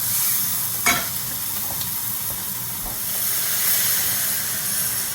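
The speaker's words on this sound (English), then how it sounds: "It's beginning to splatter, and I add in my spring onion." Garlic and chopped spring onion sizzling in a hot pan, a steady close hiss with a couple of sharp utensil clicks as the pan is stirred, no talking.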